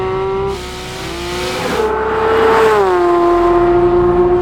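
A high-pitched 2022 Porsche 911 GT3 engine sings loudly and rises in pitch, holding a sustained howl as it revs up close, with no voices.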